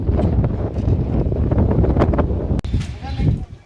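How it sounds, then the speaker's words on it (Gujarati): Strong wind buffets the microphone with loud, gusty rumbling and rustling throughout, briefly dropping before surging again. "તો અત્યારે જો પવન ઉપડ્યો છે"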